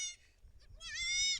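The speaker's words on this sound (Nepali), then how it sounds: "खेतमा चाहिँ बाख्रा ब्याएको छ 4वटा" A mother goat and her four newborn kids bleat in a farm field, a brief high bleat at the start, then a longer, louder wavering bleat that fills the second half, close to the microphone with faint low rumble beneath.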